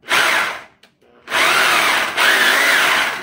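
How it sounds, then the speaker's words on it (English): A loud Oxford rotary hammer drill grinds in two bursts, a brief pause between them, harsh and close with a steady rotary hammering buzz. "So that's the sound of the hammer drill"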